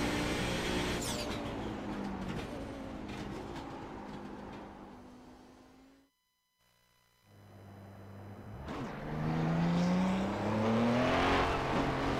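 Audi race car lapping the Belle Isle street circuit in Detroit in iRacing, a loud engine drone with rising revs and gear changes, a brief near-silent gap midway, then hard acceleration building again.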